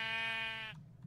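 A single sheep bleats once in Minecraft, a bright, buzzy held call lasting under a second, followed by a faint low rumble.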